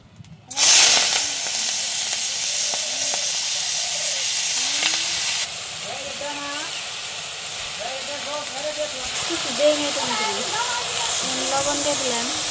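Vegetables for Bengali chorchori dropped into a hot pan after frying fish, a sudden loud sizzle and hiss that settles into steady frying, with someone talking over it.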